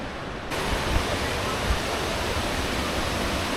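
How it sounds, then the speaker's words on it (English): A waterfall on a forested hiking trail roars as a steady broadband rush of falling water, continuous and fairly close, with no talk over it. "we're coming back up to the waterfall here"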